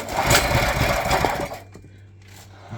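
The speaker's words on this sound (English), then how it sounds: "When starting the engine, pull cord slowly until the resistance," The small engine of a free pressure washer, oiled up for a revival, fires with a rapid rattling, knocking run that cuts out after a moment, leaving a faint low hum before a brief sputter.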